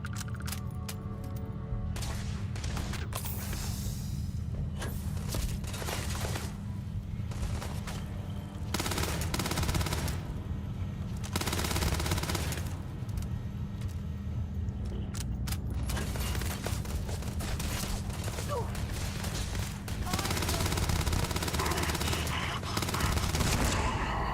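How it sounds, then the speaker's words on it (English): Gunfire in the Starfield video game, with sustained bursts of automatic fire and repeated shots over a long stretch amid busy game noise. "Where is he shooting me from?"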